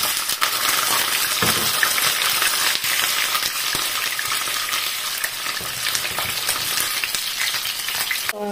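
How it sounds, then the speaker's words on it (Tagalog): Fish sizzling as it fries in hot oil for a whole-fish dish, a loud, steady crackle and hiss with brief spatters, heard up close with no talking. "So first we're going to fry the fish, and we will use the oil for the vegetables now"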